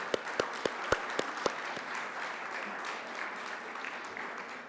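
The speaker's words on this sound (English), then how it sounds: "let's give a big round of applause to all of the amazing presenters tonight" An evening audience applauds the presenters at the 2024 Halloran Fellowship Summit. A few sharp, close claps ring out at the start, then the clapping blends into a steady, sustained crowd applause.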